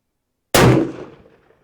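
A single sharp rifle shot fired through a suppressor on an Outlier barrel, a sudden muffled crack with a short decaying tail after a moment of silence.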